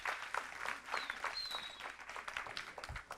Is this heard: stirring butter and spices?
no